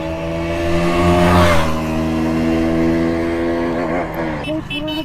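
Motorcycles on a fast group ride roar past close by in a fly-by, a loud droning engine note that swells, shifts pitch as they rev, and tails off near the end.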